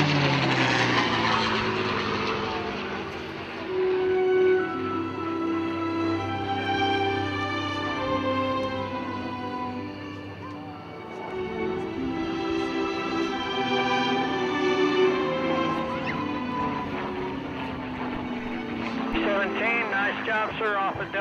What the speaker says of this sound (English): B-17.